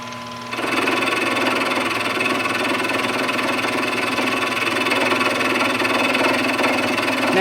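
A wood lathe modified for metalwork turns a metal part, a high-speed steel tool taking a light cut of about five thousandths of an inch; a steady mechanical hum and whir starts after a brief quieter moment and runs continuously, loud and close.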